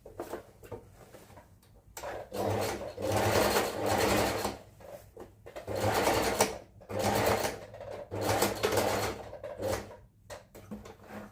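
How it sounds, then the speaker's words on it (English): A sewing machine runs in several bursts, stitching and backstitching fabric seams for baggy pants, with short pauses between runs and a steady close mechanical whir. "Back stitch when you get to the end, cut up the thread, and do the same thing to the other side as well."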